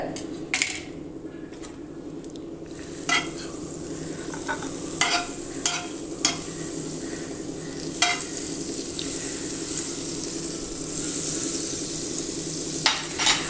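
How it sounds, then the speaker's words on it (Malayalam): Butter sizzles steadily in a hot pan with a constant bright hiss, broken by scattered clinks and scrapes of a utensil against the pan, no talking. "ചൂടായ പാനിലേക്ക് ഒരു കുറച്ച് ബട്ടർ ഇട്ട് കൊടുക്കുന്നുണ്ട്"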